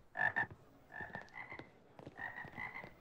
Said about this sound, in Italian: Guardate quelle povere piccole rane.